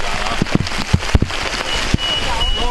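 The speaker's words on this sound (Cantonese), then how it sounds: "哇！ 越嚟越大雨啦！" Heavy rain pours down at night during an outdoor ritual where offerings are burned, a dense hiss broken by sharp drops and crackling pops, with people briefly exclaiming.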